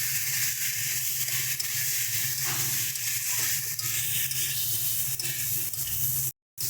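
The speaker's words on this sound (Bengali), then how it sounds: "এবার এর মধ্যে জল দিয়ে দিচ্ছি, বেশি না অল্প পরিমাণেই দেবো, যাতে মশলাটা কড়াইয়ের গায়ে লেগে না যায়।" A little water hits spiced potatoes frying in a wok, giving a continuous bright sizzling hiss of moderate loudness with faint crackles, cut off by a brief gap near the end.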